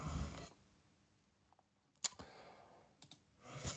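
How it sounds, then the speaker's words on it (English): Two or three sharp clicks sound in a quiet stretch as a button is pressed in a children's pronunciation learning app, with brief noisy bursts before and after. "Keep clicking the button to hear the word for some pronunciation."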